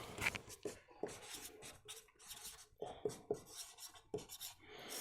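Pen or pencil writing by hand on paper, a run of short scratchy strokes with small taps between them, close and fairly quiet, with no talking.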